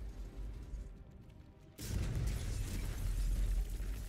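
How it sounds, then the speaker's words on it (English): The foundry explodes in Baldur's Gate 3: after a quieter hum, a sudden loud blast hits and gives way to a heavy, sustained rumble of crumbling debris. "Cool guys don't look at explosions."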